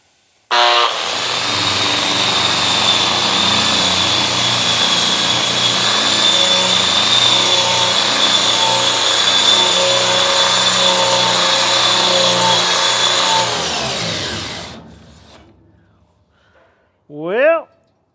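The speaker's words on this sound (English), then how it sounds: "Got my big grinder with my big wheel. Gonna start buffing and see if I can get this rust down ready to paint." A big angle grinder with a large wheel buffs rust off a steel dump trailer bed. It gives a loud, steady, high whine for about fourteen seconds, then spins down, and a voice speaks briefly at the end.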